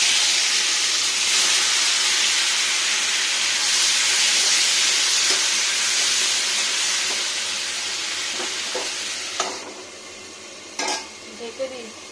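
Tomatoes go into a hot pan with dried red chilli while cooking peas and paneer, giving a steady loud sizzle and hiss that fades toward the end, broken by a few sharp clinks of stirring.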